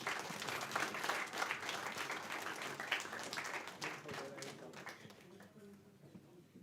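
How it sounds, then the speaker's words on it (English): Loud, sustained applause from a crowd at a contest winner announcement, steady clapping that fades slightly toward the end. "the winner, huge round of applause"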